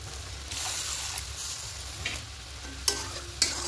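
Egg curry gravy with poppy seed paste bubbles and sizzles in a pan on the stove, a steady close simmer with occasional sharp clinks of a spoon against the pan.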